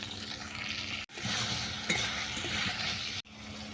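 Vegetables for a rohu fish curry fry in a pan with a dense, even sizzle, lightly fried for about three minutes, interrupted by two brief cuts.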